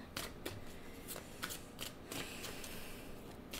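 Cards shuffled to draw a clarifier card in a card reading: a steady run of crisp riffling bursts and soft slaps, close up, with no talk.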